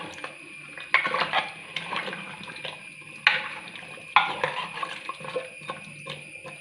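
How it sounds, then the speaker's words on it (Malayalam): Sambar vegetables in water are stirred in a metal pot for a sadya meal, producing repeated scraping clinks and sloshing at an uneven rhythm, close up with no talking. "വെള്ളമൊഴിച്ച് നന്നായിട്ട് ഇളക്കി കൊടുക്കാം"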